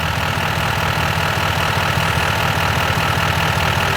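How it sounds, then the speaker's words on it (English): A car engine idles in a steady, loud, unbroken drone with a low rumble while the A/C system is being charged, and no distinct clutch click stands out. "And then I should hear the clutch start to kick in"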